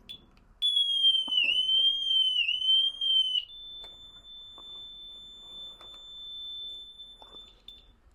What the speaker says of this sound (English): It's lovely working with bikes that have got alarms on